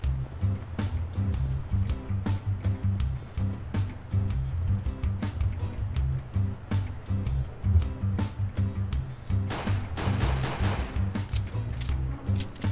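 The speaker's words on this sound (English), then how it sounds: "Yes, I did just shoot bullets for no reason." Gunfire in Counter-Strike: Global Offensive, with repeated sharp shots scattered over a steady low rumbling game ambience and a denser burst of cracks near the end.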